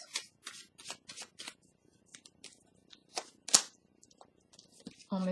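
Tarot cards are shuffled by hand in a steady series of crisp, close riffling bursts. Short pauses separate the bursts, and the last one is a longer flurry.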